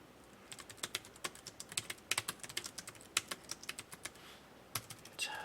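Someone types on a computer keyboard, a quick uneven run of close, crisp key clicks with short pauses and a final heavier keystroke near the end, with no talking.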